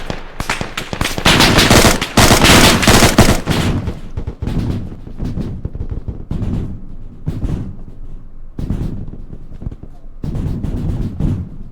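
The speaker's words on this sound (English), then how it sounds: "Big gun from the south." Heavy machine gun fire in a military shooter game: a sustained loud burst of rapid automatic fire, then several shorter bursts at intervals, with a radio-style voice talking between them.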